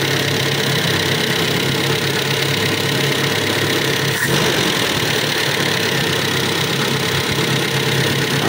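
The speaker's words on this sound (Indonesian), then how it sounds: "Ini mesinnya sudah nggak pincang kayak kemarin ya" A rebuilt car engine, repaired for stuck tappets and a combustion chamber leak, idles steadily and evenly, a loud close mechanical hum with a continuous ticking valvetrain rhythm throughout.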